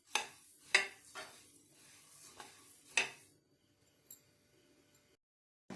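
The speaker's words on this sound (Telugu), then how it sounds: "ఇలా వేయించుకుంటూ ఉండాలండి, తిప్పుతూ ఉండాలి, లేకపోతే మాడిపోతాయి" Coriander seeds roasting in a dry pan and stirred with a spoon, giving several sharp scraping clinks and rattles at an irregular pace, then a quieter stretch with one faint clink near the end.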